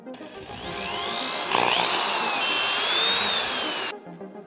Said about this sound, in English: we're gonna drill those all the way through with a hole saw